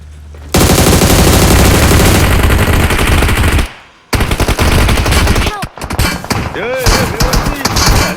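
Loud bursts of automatic gunfire from an M249 machine gun in the BGMI mobile battle royale game rattle in long rapid strings, broken by brief pauses and sharp single shots, with a player speaking over the action.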